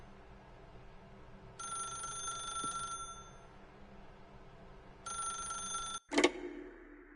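A telephone rings twice inside The Stanley Parable video game, each bright electronic bell burst lasting over a second, followed by a sharp click as the receiver is picked up over a low steady room hum.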